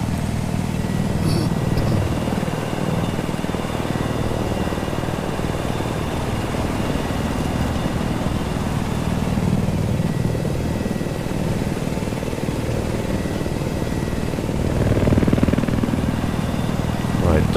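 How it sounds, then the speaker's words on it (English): A helicopter's rotor in Battlefield 4 drones continuously in a steady low whir, swelling slightly near the end, while a voice talks over it. "I'm gonna use a helicopter to fly there fast."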